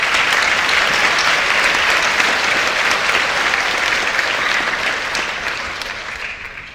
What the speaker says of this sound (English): Let's give Ms. Maycheck a round of applause.